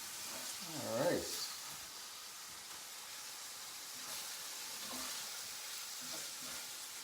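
Shrimp sizzling in a pan, a faint continuous hiss of frying with a brief louder stir or clatter near the start, heard close but quietly throughout.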